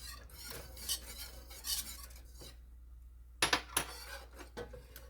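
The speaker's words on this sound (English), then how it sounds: "I'm going to go ahead and stir that up. Keep stirring." Macaroni and cheese is being stirred in a pot with a metal utensil. Scattered scrapes and clinks sound at close range, with a short quiet gap before a louder burst of clattering knocks.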